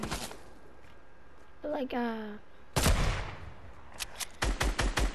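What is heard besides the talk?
gunfire from different guns in the video game Fortnite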